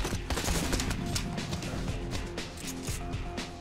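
Shotgun blasts in the VR shooting game Out of Ammo, set in a vertigo mission: a dense, loud barrage of sharp reports close up, fired in quick succession with no pause.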